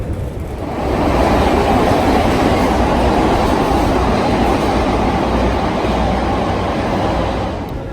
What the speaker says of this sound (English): we're finally gonna get on the subway